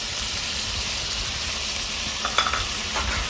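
Ginger garlic paste hits a hot pan with chicken and sizzles in a steady, bright hiss, with a few light clinks from stirring near the end.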